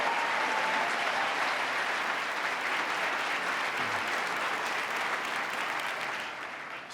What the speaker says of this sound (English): give him a round of applause for his good work